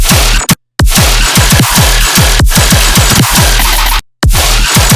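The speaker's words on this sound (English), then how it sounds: "it just basically creates a delay at the start of the sample" A looped percussive dubstep sample with repeating thumpy hits, each echoed by a short stereo-align delay at maximum, broken by two brief moments of silence.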